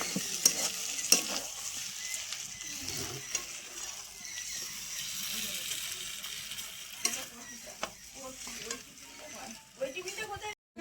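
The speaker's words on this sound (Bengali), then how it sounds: "এবার আমি ওপর থেকে আরও 2টো কারি পাতা দিয়ে দেব, দিয়ে এরকম নেড়ে চেড়ে নামিয়ে দেবো" Chicken frying with curry leaves in a pan is stirred and tossed, steady sizzling broken by scraping clinks and clatters of the spatula throughout, close and fairly quiet.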